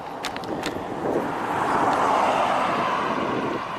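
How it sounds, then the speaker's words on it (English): Road traffic passes by outdoors, a broad rushing swell that builds and holds for several seconds with a few faint higher tones at the start, no voices. "Wait for the traffic to go by."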